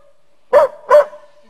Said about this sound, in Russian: Поисковая собака Крат.